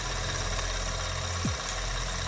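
A steam engine runs with its flywheel turning, giving a steady, low, humming mechanical drone at moderate level with a brief falling tone partway through.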